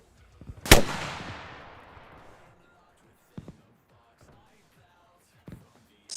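A rocket fires in the military shooter Arma Reforger: one sharp, loud blast with a long fading rumble, followed by a few fainter distant thuds, in an otherwise quiet field.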